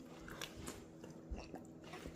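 Close, crisp bites and crunchy chewing of a cornbread salad with peppers, broccoli, cauliflower, tomatoes and bacon, several quick crunches in a row over a couple of seconds.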